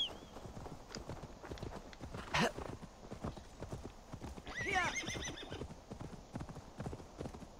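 A horse in the video game Assassin's Creed Valhalla trots with steady clip-clop hoofbeats, giving a sharp rising whinny partway through and a second whinny shortly after, at moderate volume.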